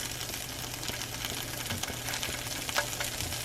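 Sausages browning in a pan, a steady soft sizzle and crackle of frying fat with small pops, close and continuous at low level, no talking.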